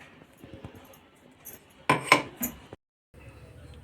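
Grated amla cooked with an equal amount of sugar is stirred in a pan over a low gas flame, giving soft scraping and a louder burst of clinking utensil scrapes partway through, then a short silence.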